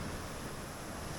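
Steady surf washes in at Vattakottai beach near Kanyakumari, a dense continuous roar of waves with some wind buffeting the microphone, no voices.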